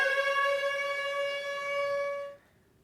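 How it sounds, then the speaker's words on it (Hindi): A civil defense siren blares during a blackout mock drill, a single steady tone that holds loud and constant for a couple of seconds before cutting off abruptly into near silence. "इस दौरान जिले में सायरन बजाए गए और सायरन बजते ही घरों और दुकानों की लाइटें बंद कर दी गईं।"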